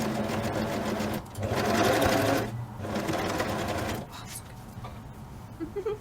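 Sewing machine stitching an upcycled t-shirt, a steady close mechanical whir that runs in bursts, speeding up and pausing briefly, with a short stop near the middle and light handling sounds toward the end.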